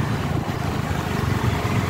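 Strong northeast monsoon (amihan) wind buffets the microphone in a continuous low rumble, with rushing water and waves churning beneath it on Laguna Lake, Philippines.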